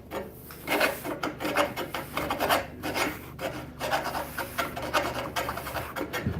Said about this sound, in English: We can take shavings with the axe edge with very minimal damage.